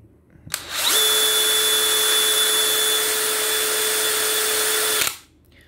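A Dewalt DCD996 cordless drill runs loud and steady for about four seconds with a high motor whine, spinning up quickly, then cutting off abruptly.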